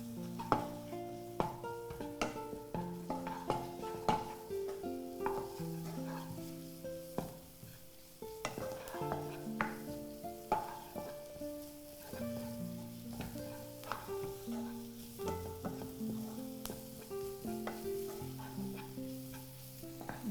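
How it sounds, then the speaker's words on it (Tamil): Cinnamon, cloves and cardamom sauté in hot oil in a pan while a spoon scrapes and stirs, giving quiet sizzling under repeated irregular metallic clinks and scrapes throughout. "இதில் வந்து பட்டை, கிராம்பு, ஏலக்காய்லாம் வந்து எண்ணெயில் வதக்கலாம்."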